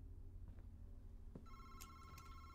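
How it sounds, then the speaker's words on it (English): An old telephone bell rings inside the horror video game Madison, starting partway through with a bright, harmonic trill over a low ambient drone, fairly quiet and with no talk. "Oh, phone ringing."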